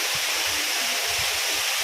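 Rain falls steadily near Adiyogi in Chikkaballapur, a dense continuous hiss throughout the short moment with no voices.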